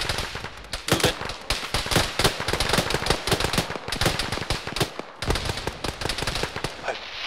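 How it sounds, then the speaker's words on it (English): Rapid, dense gunfire from a military shooter game battle near a bunker, loud cracking shots in quick irregular bursts throughout with brief gaps, voices mixed in. "I think I just shot the D-30 gunner"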